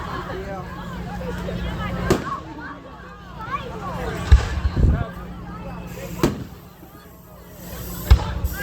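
Carnival fireworks explode in a series of about five booms at uneven intervals, some close together, over a constant hum of crowd chatter.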